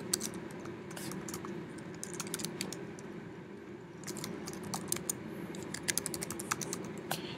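Sign-in credentials are typed on a computer keyboard in quick, irregular clusters of light key clicks over a steady low room hum, near and alone.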